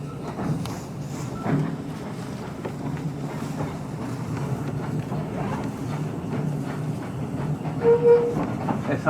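Little diesel train on the narrow-gauge Talyllyn Railway running along the rails, a steady rumbling engine drone with faint wheel clatter, heard from inside a carriage.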